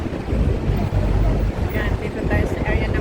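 Wind buffeting the microphone on the top deck of an open-top tour bus in Hong Kong, a loud continuous low rumble and roar throughout with the bus engine underneath and no pause.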